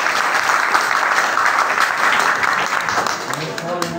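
An audience claps steadily through a public programme in Rahim Yar Khan, Pakistan. The dense, continuous applause stays loud and even throughout and tapers only slightly near the end.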